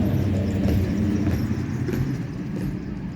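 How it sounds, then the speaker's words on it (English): Cars passing outdoors near a garden, a steady loud rumbling wash of road traffic with engine drone swelling slightly and easing off, no talking. "Everybody's driving through now, as you can hear."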